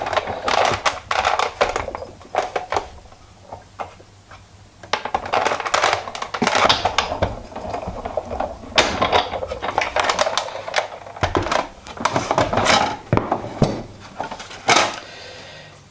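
Irregular clicking, crunching mechanical rattles from a hand-cranked Big Shot die-cutting machine pressing a plate through, in uneven bursts at close range.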